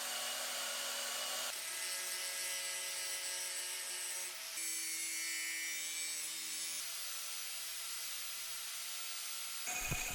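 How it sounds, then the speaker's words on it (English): A small bandsaw cutting through leaf spring steel: a steady, continuous whining rasp of blade on metal, heard up close with no talk. "went ahead and just cut that piece out on the little bandsaw"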